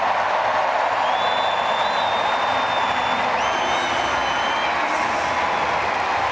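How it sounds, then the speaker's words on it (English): Stadium crowd at an athletics meet ahead of a women's 100m hurdles race, cheering and applauding as a broad, steady roar heard from a distance, with a commentator talking over it. "they see her on the big screen and they start to cheer"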